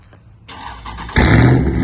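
A tuned Dodge Charger Scat Pack 392 engine cranks briefly on a warm start and catches, firing up into a loud, steady idle close by.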